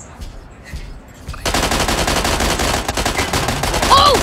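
Rapid automatic gunfire in the Mech Arena video game starts abruptly after a quiet opening and keeps going as a dense, loud, continuous burst of shots, with no one talking.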